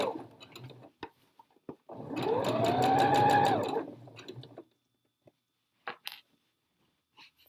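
A sewing machine stitches down the side seam of trousers in one steady run of about two seconds with a rising motor whine, framed by scattered clicks and handling noises in quiet surroundings.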